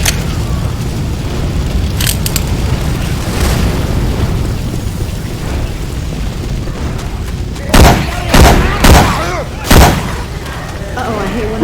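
Gunfire in Left 4 Dead 2 with Syphon Filter weapon sounds: a steady din of game shooting and background noise, then four loud, sharp shots in quick succession near the end.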